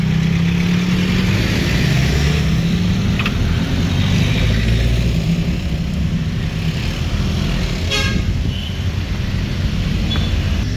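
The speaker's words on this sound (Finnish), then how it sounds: "Liikennettä niin pirusti." Busy street traffic in the Philippines, with cars and engines humming and idling in a continuous loud drone, a passing vehicle swelling midway and a brief sharper sound near the end, no speech.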